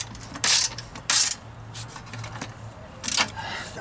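Ratchet tightening a seat bolt on a Jeep Wrangler YJ while fitting a Ford Ranger bucket seat, heard as three short, close bursts of rapid clicking separated by quieter handling noise.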